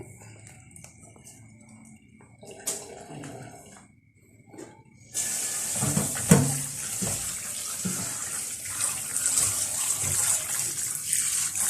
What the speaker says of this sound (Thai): ปลาดุกมาล้าง